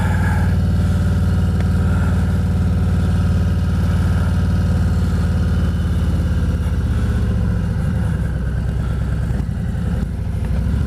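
A motorcycle engine idles loud and close, holding a steady low rumble for the whole stretch, with a slight wobble in its rhythm near the end.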